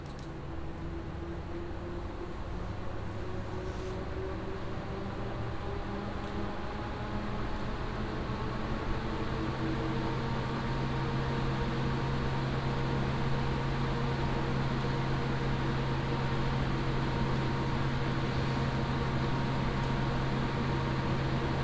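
Steady whooshing PC case fan noise from Geomatric Future Junior Eskimo 36 and 2503B/W fans under full Cinebench R23 CPU load, with a low, constant hum and a few tonal whines, holding level throughout with no voices.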